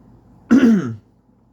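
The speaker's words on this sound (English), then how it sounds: "had to clear my throat" A single short, close throat clearing, a gruff rasp lasting about half a second, with quiet around it.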